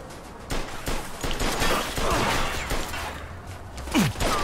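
Gunfire during a police shootout in the video game Mafia II, a dense fusillade of rapid shots and crackling impacts, loud and continuous over a few seconds.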